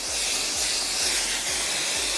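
Spray adhesive hisses in a steady continuous stream onto embroidery fabric for an appliqué sweatshirt, close and loud, with faint low thumps underneath.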